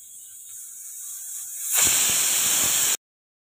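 A pressure cooker on the stove, cooking ghee rice made with raw milk, hisses softly as steam builds, then bursts into a loud, sharp whistle of escaping steam for about a second before cutting off abruptly.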